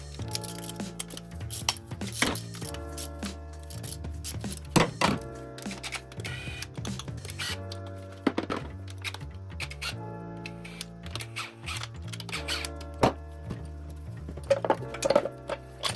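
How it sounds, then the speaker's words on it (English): Taking off the valve cover of a 2000 Honda Civic engine gives irregular metallic clicks, clunks and taps of tools and parts, close and moderately loud, with no talk. "go ahead and remove the valve cover"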